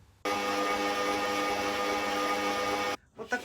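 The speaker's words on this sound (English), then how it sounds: "I put the cottage cheese in the processor bowl, add the eggs, sugar, and vanilla." A food processor whirs steadily at high speed for nearly three seconds, blending cottage cheese, eggs, sugar and vanilla, then cuts off into a few soft clatters.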